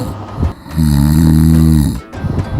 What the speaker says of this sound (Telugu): నీ గొరక సౌండా? నేను ఇంక ఇంజిన్ సౌండ్ అనుకుని భయపడ్డాను